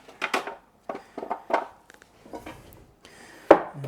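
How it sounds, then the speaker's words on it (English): Knife slicing small potatoes into fry-shaped strips on a board, a series of irregular crisp cuts and taps with short gaps, close and clear, ending with one sharper knock. "They're a bit small to cut into wedges, so I'm just going to cut like a fry kind of shape."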